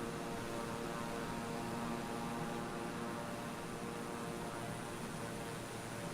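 Steady simulated propeller drone of a King Air 350 twin turboprop in cruise on a flight-simulator flight from Miami to Cuba, a continuous even hum with no talk.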